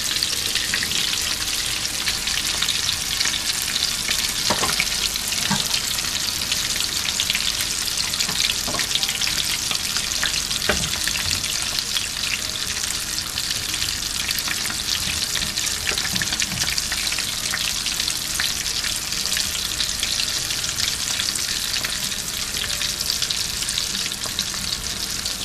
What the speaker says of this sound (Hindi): तो अब ये आस्ता आस्ता फ्राई होंगी।